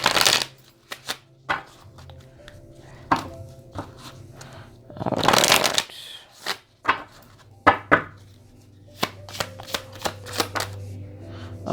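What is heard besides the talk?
shuffling a deck of cards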